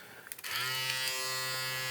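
After a few soft clicks, a Wahl Micro Power electric foil shaver switches on and runs with a steady, close, high-pitched buzzing hum.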